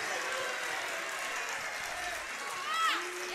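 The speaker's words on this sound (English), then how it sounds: "the students with the applause going on right here" Students applaud and cheer from the stands during a state playoff basketball game, a fairly faint wash of clapping and crowd noise with squeaking sneakers and an announcer talking over it.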